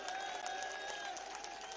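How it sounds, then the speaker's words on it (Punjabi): Audience applause at a political rally in Ludhiana: dense, steady clapping from a crowd, fairly faint and distant, running without a break. "ਤਾੜੀਆਂ ਮਾਰ ਕੇ ਹੌਸਲਾ ਵਧਾ ਸਾਡੀ ਟੀਮ ਦਾ"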